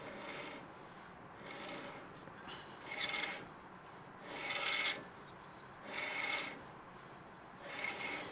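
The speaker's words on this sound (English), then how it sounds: "we're simply going to go around and spin the rotor" A brake rotor spun by hand while checked with a dial indicator gives faint, repeated rasping whirs, about five soft swells in a slow, even rhythm.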